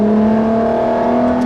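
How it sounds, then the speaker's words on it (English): A Ferrari LaFerrari engine in Sport mode holds a loud, steady droning tone with a strong whining hum close by, sustained evenly through the short stretch without talk. "I've just moved the throttle there about 1/1000th of an inch and you get this sudden burst of acceleration"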